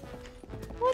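A horse in Zelda: Tears of the Kingdom gives a few brief, muffled hoof clops under game sound, followed by a short, higher-pitched tone.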